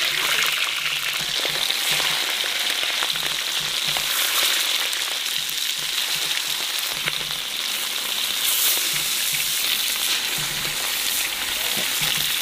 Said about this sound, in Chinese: 煎鱼。